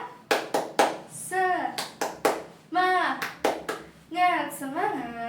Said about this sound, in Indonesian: Yuk kita tepuk semangat satu kali.